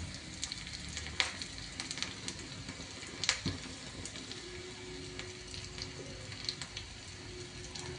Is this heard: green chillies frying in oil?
yes